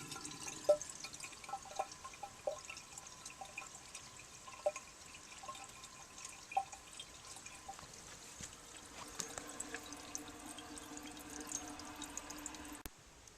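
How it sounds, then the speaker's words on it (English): A 1933 Standard Modernus toilet tank refills with water, a soft trickling hiss punctuated by occasional drips, quiet and close, with the flow changing tone near the end before a sharp click. "The tank is full, and the 1933 Standard Modernus is ready for its first flush."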